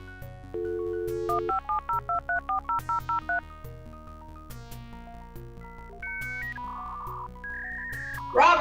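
Telephone dialing tones beep in a quick rhythmic series of about a dozen short touch-tone notes from a cartoon phone, followed by other tonal electronic sounds, loud and close.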